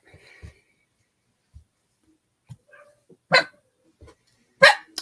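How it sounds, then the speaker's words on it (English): A dog gives two sharp, loud barks near the end, preceded by a few soft yips and small thumps in an otherwise quiet indoor room. "Don't bark. Be a good girl."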